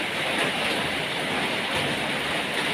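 Steady, dense rain hisses continuously, an even wash of falling water with no voices.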